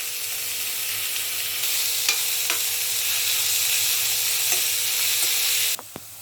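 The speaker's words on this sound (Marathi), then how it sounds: "कांदा परतून घेऊया" Onion sautéing with asafoetida in a pan, a steady close sizzle with a few sharp stirring scrapes, running alone and ending in a sudden drop near the close.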